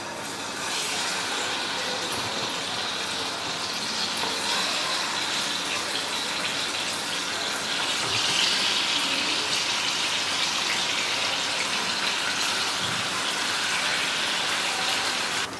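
About one and a half kilos of beef trotters frying in oil for nihari, a dense, loud, continuous roar of sizzling oil filling the whole stretch without letup.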